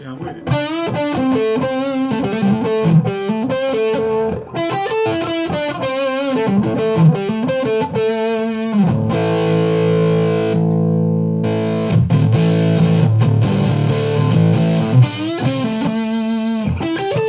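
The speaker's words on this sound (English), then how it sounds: "I just have the fuzz set up as a boost today." Distorted electric guitar lead played through a Line6 Helix with a fuzz pedal set as a boost, heard first without and then with the fuzz, sustained notes and bends ringing loud and saturated, with no talking.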